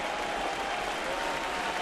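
A baseball stadium crowd at a Rays–Blue Jays game roars in encouragement for reliever Brett Cecil with the bases loaded and two outs in a tied game, a loud, steady wash of cheering and clapping.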